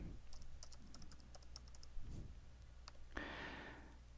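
Administrator typing at a computer keyboard to log in: a quick run of light key clicks at a steady pace, a pause, a few more taps, then a brief louder clatter, faint and close over a low hum.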